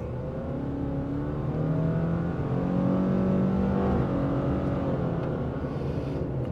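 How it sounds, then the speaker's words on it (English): A 2024 Subaru Crosstrek Wilderness accelerates from inside the cabin, its engine note steadily climbing in a long, smooth rise with a whiny transmission tone, loud and continuous with no talking. "Let's check out the acceleration."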